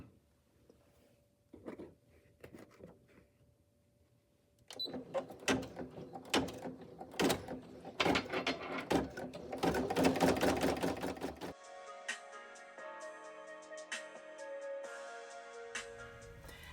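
An embroidery machine stitches a decorative pattern inside the satin border of a bag tag. Faint clicks are followed by a steady, loud mechanical clatter of rapid needle strokes, which then shifts to a smoother, higher whir.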